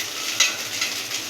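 Rice tossed and stirred in a hot pan, with a steady broad sizzle and a couple of brief scraping clinks, close and without talk.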